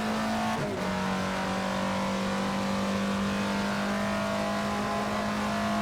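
Alfa Romeo 33 Stradale's 50-year-old engine in the Assetto Corsa racing game revs high and steady, a loud sustained tone with one brief blip early on and no talk.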